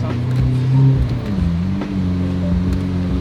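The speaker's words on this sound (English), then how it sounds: "there's nothing like the sound of a V12" A deep, throaty V12 sports car engine idling and blipping close by, its pitch shifting between revs in a continuous rumble.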